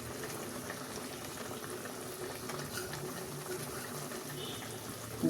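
An egg curry with chopped coriander simmering in a pan on the stove, a soft continuous bubbling hiss and sizzle, steady and quiet throughout, with no talking.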